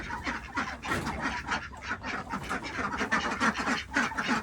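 A flock of about 30 ducks in a mobile duck coop quacking and honking continuously at close range, a busy overlapping chorus with no talk.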